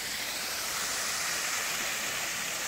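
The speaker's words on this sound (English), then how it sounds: "You come down here after a pretty heavy rain, there's two waterfalls down here." Steady rushing hiss of a waterfall running after heavy rain, a constant wash of falling water heard alone at moderate distance.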